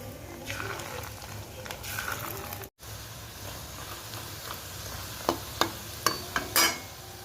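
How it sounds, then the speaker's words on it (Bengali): Fish roe fritters frying in a pan at home, a steady crackling sizzle with a brief dropout midway and several sharp utensil clicks and scrapes toward the end, close by with no talking. "তাই পরে বড়াগুলো আমি ভেজে নিচ্ছিলাম।"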